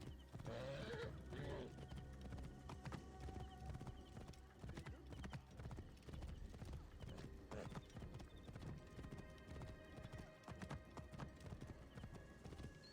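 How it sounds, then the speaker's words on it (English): Steady clip-clop of horse hooves trotting along, with an occasional whinny, over a busy background of ambient noise and music, in the game Assassin's Creed Origins. "You're like the 4th best video game horse I can think of."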